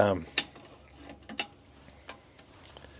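A ratchet works on the bolts of an RV bench seat, giving sparse metallic clicks and a few sharp ticks, close and quiet, with a brief clatter at the start and no talking.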